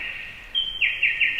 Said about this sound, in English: This bird is like so loud.